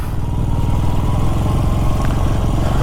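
A 48-year-old Honda motorcycle engine running on a mountain ride, a loud, close, steady low thrumming with rough mechanical clatter and no talk.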